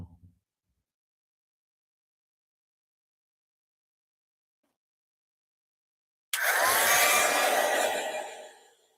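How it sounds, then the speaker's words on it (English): A heat gun switches on abruptly after a long silence and blows a steady, loud whooshing roar while heat-setting embossing powder for a craft project. "we can bring in our heat gun to heat set this"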